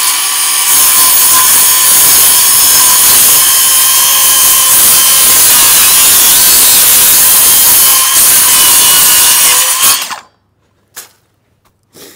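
A power saw trims material while a horse stall is being fitted, cutting in one long, loud, steady whine for about ten seconds before stopping abruptly, leaving a couple of faint knocks afterward.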